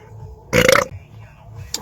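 A single loud, short belch after drinking Mountain Dew VooDew mystery flavor, rising abruptly out of quiet room tone, with a brief faint sound near the end.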